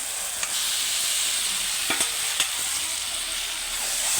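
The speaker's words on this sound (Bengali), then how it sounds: "মশলার সঙ্গে ভালো করে আমি চিকেনটা মিশিয়ে দেবো, দিয়ে এইভাবে আমি চিকেনটা ভালো করে কষে নেব" Marinated chicken is stirred into masala in a hot pan, a steady close sizzle and fry with a few sharp scrapes and clicks of the spoon against the pan, with no voices.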